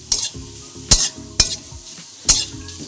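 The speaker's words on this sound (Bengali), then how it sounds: "এটা 2-3 মিনিটের জন্য হালকা হালকা করে ভাজবো।" Food fries lightly in a home-kitchen pan with a steady soft sizzle, broken by four sharp scraping stirs spaced unevenly across a few seconds, close and fairly loud.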